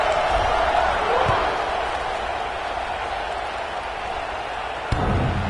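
Crowd at a college football game between Oregon and Ole Miss, heard as a steady diffuse buzz of voices in a stadium after a score, distant and even, with a brief thump near the end.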